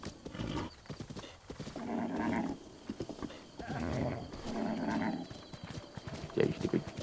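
A horse in Zelda: Breath of the Wild snorts and whinnies, with clip-clopping hooves in bursts, close and fairly loud, over a busy game background.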